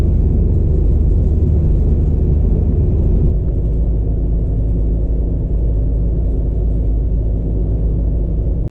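A 1999 Jeep Cherokee XJ engine pulling uphill under about 15 psi of boost, a loud continuous low rumbling drone heard from inside the vehicle, steady throughout with a slight drop in level partway through.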